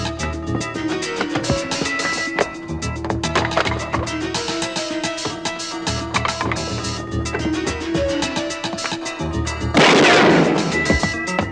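Loud, dense sharp cracks and bangs of gunfire ring out in a chaotic burst, with a harsher blast near the end, over a busy dramatic background.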